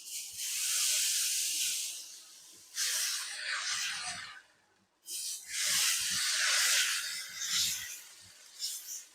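Dosa batter sizzles on a hot pan in loud hissing bursts that swell and fade, with short clinks and scrapes in between and a brief quiet gap partway through.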